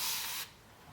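A single short spritz from a spray bottle hisses up close, spraying water onto chalk-painted fabric, then cuts off into quiet.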